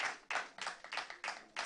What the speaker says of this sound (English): A hand of applause for our debaters.